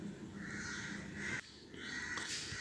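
Crow cawing in a short, fairly loud burst that breaks off midway and then resumes, with no voices over it.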